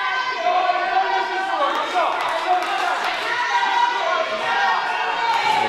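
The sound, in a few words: wrestling crowd cheering and shouting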